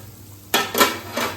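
A metal cooking pot is handled just after homemade ghee is made, giving three clanking knocks and scrapes that ring out close and fairly loud after a quiet start.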